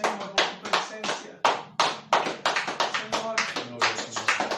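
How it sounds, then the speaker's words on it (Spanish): Church congregation applauding loudly during a prayer service, a dense run of hand claps with a strong steady rhythm filling the space, close and continuous throughout. "dale un aplauso fuerte al Padre"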